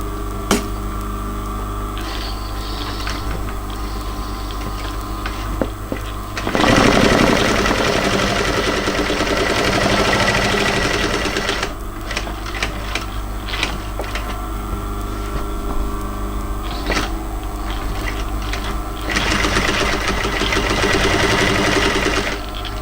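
A sewing machine stitches faux leather for a midi bag in steady mechanical bursts, with a louder, busier run in the middle and several stops and restarts, close and alone.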